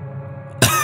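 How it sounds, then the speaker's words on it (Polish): A man coughs hard once, a sudden harsh burst after a stretch of low droning background, close and loud. "Stanął i kaszlnął tak mocno, że poczuł w ustach słodkawy smak krwi."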